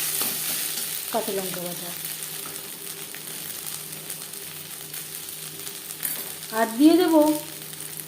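Sliced onions fry in a pan with a spoonful of ginger paste, a soft steady sizzle with occasional stirring scrapes, while someone talks over it in Bengali.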